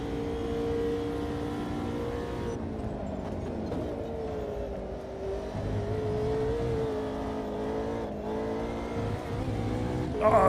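A race car engine in a sim racing game holds a loud, steady drone with gear shifts and rising revs throughout, a brief dip before climbing again.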